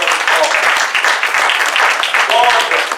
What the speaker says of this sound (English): let's give Mr. Ross, let's give him a round of applause